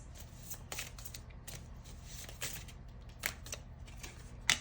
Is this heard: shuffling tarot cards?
yes